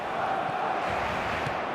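A stadium crowd in the football video game eFootball makes a continuous broad roar, a steady wash of massed voices with no single voice standing out.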